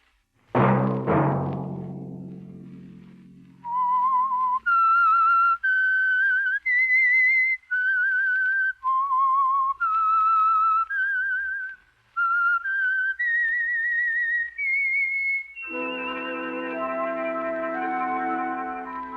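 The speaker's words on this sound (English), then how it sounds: "Let that whistle be your signal for the Signal Oil program" A melodic whistled theme tune of several rising and falling phrases, loud and clear, opening with a sharp struck chord and ending as an orchestra swells in, from a 1951 radio program.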